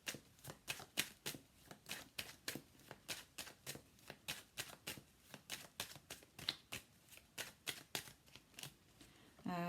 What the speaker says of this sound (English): I am going to put out more cards on top of these